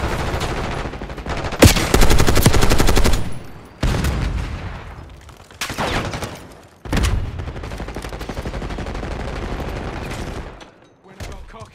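Gunfire in the video game Call of Duty Black Ops 6: loud, close sustained bursts of automatic fire in several separate volleys with short gaps between them, filling the whole stretch.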